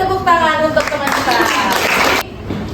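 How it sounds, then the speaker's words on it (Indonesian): Classroom applause for a student who has just answered, a burst of clapping from pupils mixed with children's excited voices, fairly close and steady before cutting off. "Beri tepuk tangan untuk teman kita."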